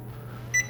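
A single short electronic beep from an oven control panel while setting the preheat, heard near the end over a low steady hum, with no talking.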